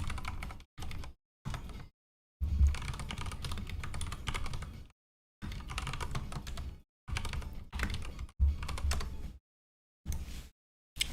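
Someone types on a computer keyboard in uneven bursts of rapid clicking broken by short silent pauses, close and clear with no speech.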